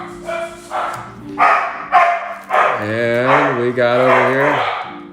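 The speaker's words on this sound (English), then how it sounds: "Sorry about the dogs. They'll settle down in just a minute." Several dogs bark and yelp insistently at home, loud and close, in repeated bursts with a howling run near the end, while someone talks over them.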